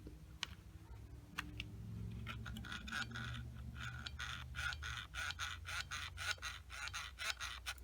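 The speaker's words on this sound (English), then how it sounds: "There's a little bit of clicking now." Small clicks from an adjustment screw being turned on a Frsky Taranis QX7 radio transmitter gimbal, a run of faint, close ticks under light handling noise, with no talking.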